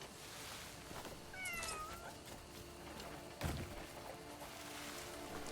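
A cat meows in the open-world game Crimson Desert, a short, sliding mewing call rising over a low ambient outdoor bed, followed a little later by a dull single thunk.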